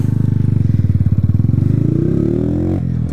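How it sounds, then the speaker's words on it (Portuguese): Motorcycle engine revving up hard, the throttle climbing in pitch with a steady pulsing rhythm before cutting off near the end, loud and close, on a bike whose drive chain has just been tensioned and lubricated. "Vamos acelerar ela pra ver quanto vai dar de velocidade"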